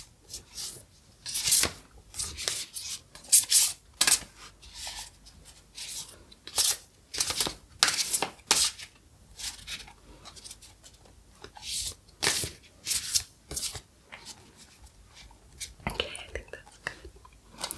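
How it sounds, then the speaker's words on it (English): A deck of tarot cards is shuffled close up in a hushed setting, producing repeated crisp riffling and flicking bursts in an irregular rhythm with brief pauses between them. "So I'm going to give these a shuffle and I'll pull a couple of example cards"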